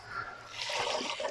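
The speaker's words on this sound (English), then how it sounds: "get water on the pan quick" Water splashes onto a hot pan coated in tandoori spice and shrimp residue, giving a short hissing, trickling burst that swells midway and lasts about a second, close and moderately loud with no talking.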